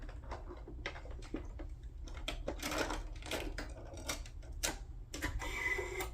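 A sewing machine stitches around collaged index cards, a close, uneven run of quick clattering stitches with small pauses, faint low hum beneath.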